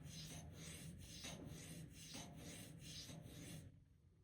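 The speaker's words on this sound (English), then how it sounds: "I started sharpening." A steel broadhead blade is drawn repeatedly across a sharpener in a steady rhythm of about six close rasping strokes, each a gritty scrape, stopping near the end.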